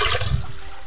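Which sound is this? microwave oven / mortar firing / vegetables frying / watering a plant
watering a plant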